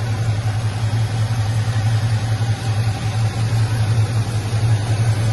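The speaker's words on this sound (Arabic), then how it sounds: "اشتغلنا عليه مشروع محرك 6 لتر." A GMC truck fitted with a 6-litre engine idles steadily at close range, a low even rumble with no revving and no talk over it.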